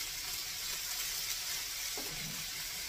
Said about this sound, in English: we're going to get everything browned up